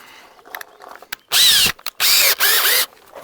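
A power drill whirs in three short bursts, loud and close, with brief pauses and small clicks and handling noises between them.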